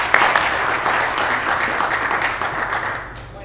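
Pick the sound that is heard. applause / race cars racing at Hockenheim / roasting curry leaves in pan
applause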